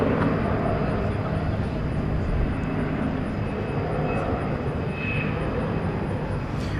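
Airliner departing from runway 18 left at DFW Airport at night, a steady loud jet engine roar heard from the spotting area, with faint talk underneath.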